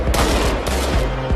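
Bursts of live rifle fire from Yassam police training on Jerusalem's Jaffa Road, several loud sharp shots in quick succession, close and echoing, with no voices.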